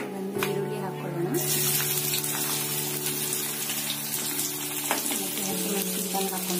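Onion fries in oil with cloves and cinnamon, giving a steady close sizzle broken by a few clinks and stirring scrapes, with no talk over it.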